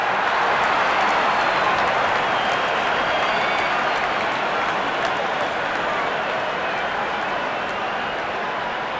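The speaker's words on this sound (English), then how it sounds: "Wonderful 50 and the crowd applauds." A large cricket stadium crowd applauds a batter's fifty in an England vs India T20 match, dense, sustained clapping and cheering that holds at an even, loud level throughout.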